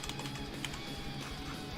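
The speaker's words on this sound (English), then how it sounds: "You guys have no idea how tired I am of typing the word connector by now." Keys on a computer keyboard are typed in a soft, steady patter, heard faint and close with no talk.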